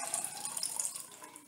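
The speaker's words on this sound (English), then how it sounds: "So then I pour in water." Water poured into an essential oil mixture, a steady close trickle and splash that runs evenly for a second and a half with no voices.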